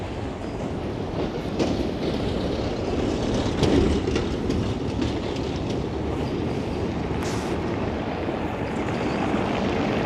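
A tram rolls along the tram tracks of an Odesa street with a steady rumbling, clattering rush, close and continuous throughout, with no talking.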